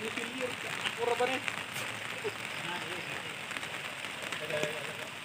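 Rain falls steadily as a dense, even hiss with scattered crackling drops outdoors, while people talk and call out faintly underneath.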